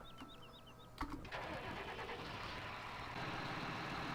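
A tractor engine starts in the Farm Sim 17 video game, with chirping beeps, then a sharp crank and catch, rising into a loud, steady engine idle that grows slightly fuller toward the end.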